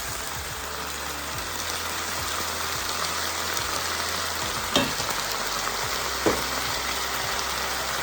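Steady close sizzling of red balsamic vinegar hitting a hot pan of pepper steak stir fry, a continuous frying hiss with light stirring scrapes and two brief sharper pops, no talking.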